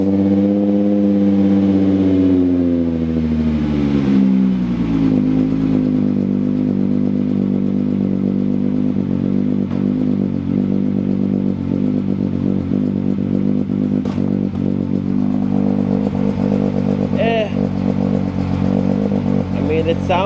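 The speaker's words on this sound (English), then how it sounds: "We're going to start the car." A car engine cold-starts with steel wool stuffed in the exhaust, cranking and catching with a rising tone, then settling into a loud, steady, slightly muffled idle with faint clatter close by.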